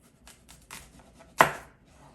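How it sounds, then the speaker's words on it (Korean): A single sharp knife chop through a potato on a cutting board lands as one crisp, close thud, following a few soft quiet handling taps. "이제 감자 썰어 볼게요"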